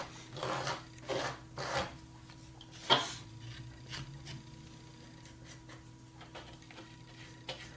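A potter's rib smoothing the edges of a clay slab teapot, a series of soft scraping strokes and light taps, close but quiet, irregular at first and thinning out toward the end.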